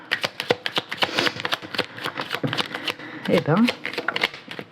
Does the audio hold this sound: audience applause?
no